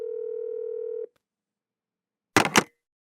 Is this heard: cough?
no